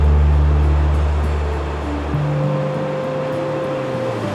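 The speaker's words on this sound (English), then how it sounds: "13 waterfalls hurtle down the cirque walls." Thirteen waterfalls plunge down the limestone walls of a glacial cirque, the largest dropping 423 meters; a steady, unbroken rushing roar fills the whole stretch alongside low droning tones.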